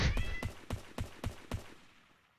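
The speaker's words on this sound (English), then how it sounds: "I need to let my cat out of the room." A cat meows once, loud and close, then a run of six evenly spaced sharp taps that fade into quiet.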